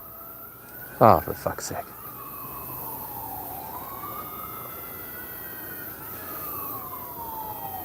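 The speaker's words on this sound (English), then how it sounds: "Is that ambulance going to the assisted living or nursing home at the end of the block?" An ambulance siren passes along a city street near an assisted living home, a steady wailing tone that rises and falls for several seconds. A brief outburst of speech comes near the start, then the siren continues alone.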